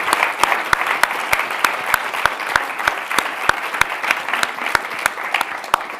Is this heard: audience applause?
yes